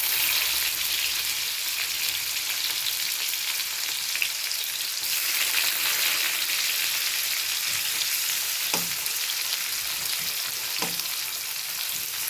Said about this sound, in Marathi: आपली मोहरी चांगली तडतडली त्यामध्ये आता कांदा घालून घेऊया।